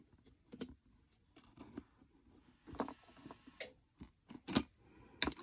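Scissors snip paper shamrock shapes for a framed St. Patrick's Day craft, giving a series of short, close, crisp cuts spaced irregularly, each a quick crunchy snap with quiet pauses between.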